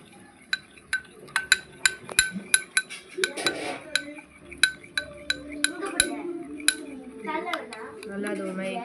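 A spoon stirs lemon juice, salt and white pepper into a creamy sauce in a dish, tapping out a string of bright metallic clinks against the plate while a voice talks nearby.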